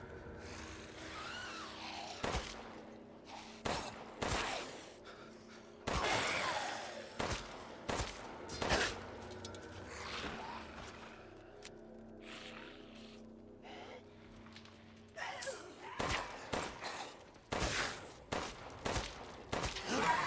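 Gunfire in the video game Resident Evil Village, several sharp shots spaced irregularly with a brief flurry, loud over quieter game ambience and movement.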